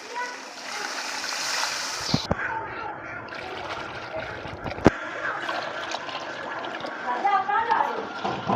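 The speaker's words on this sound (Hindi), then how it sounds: "अब हम डालेंगे पानी।" Water is poured into a cooking pot of potato pulao, with a splashing, trickling pour near the microphone and someone speaking over it.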